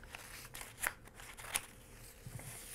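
Scissors snip through a large paper costume pattern, making a couple of sharp crisp cuts with faint paper rustling between them at close range.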